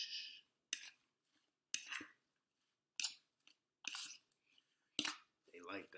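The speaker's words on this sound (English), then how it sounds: "I like to mix my stuff up. You hear that? That's that good ASMR sound, man." Salad being tossed with sauce gives short, crisp, wet crunching bursts about once a second, close and quiet, separated by brief silences.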